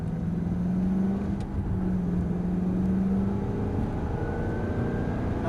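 A car accelerates on the Circuit du Laquais racing track near Champier, with a steady engine drone that climbs gradually in pitch. It sounds heard from on board, continuous and moderately loud, with no talking.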